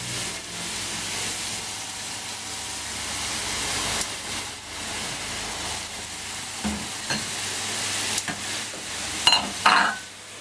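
Finely cut green onions and regular onions fry in a very hot pan for a vegan pasta, a continuous close sizzle that swells and settles, with occasional stirring clatter near the end and no voices.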